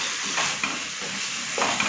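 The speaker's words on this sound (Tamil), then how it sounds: "நல்லா வதக்குங்க." Onion with ginger garlic paste sizzles in a pan, a steady frying hiss broken by a few brief stirring scrapes, close and without talk.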